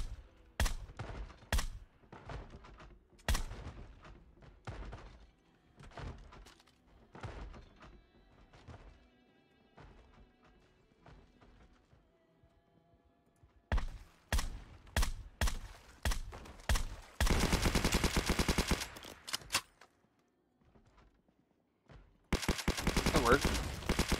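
Shooter game gunfire in a Fallout-style bunker map: scattered single shots and short bursts early, then dense sustained automatic fire in two long loud stretches, with quieter gaps between.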